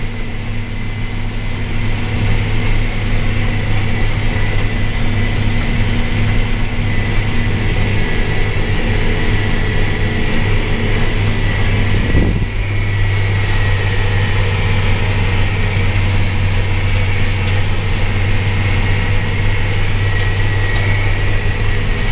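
A Versatile 400 tractor pulling a Viking VT tillage tool across a field at the Farm Progress Show, its engine droning in a loud, steady low hum that continues without break and without voices.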